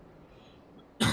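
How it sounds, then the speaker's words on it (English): After a quiet stretch, a single sharp, loud cough bursts out close to the microphone and fills the last moment. "I'm really sorry for this cough."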